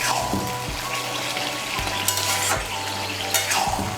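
Bottle gourd and fish head being stirred with spices in a hot pan, a steady sizzle and frying crackle with repeated scraping strokes of a spatula, close and continuous, with no talking.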